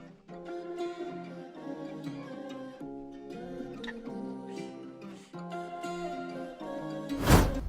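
Afro/moombahton remix playing as an octave-lowered instrumental, deep pitched-down chords and melody gradually shifting back toward normal pitch, ending in a sudden bright noisy sweep.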